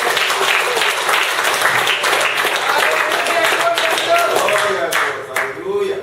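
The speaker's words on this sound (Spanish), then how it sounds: "Dale fuerte aplauso a Dios." A church congregation gives sustained, dense applause throughout, loud and close, tapering near the end, with voices heard over the clapping.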